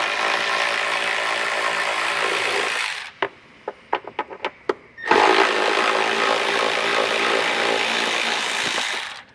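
A power tool removes T40 Torx bolts on a 2015 Mercedes. It whirs loudly and steadily for about three seconds, then a quick string of sharp clicks follows, then another long, loud run.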